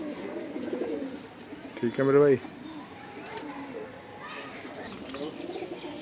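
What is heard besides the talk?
pigeons cooing, Punjabi Malwai pigeons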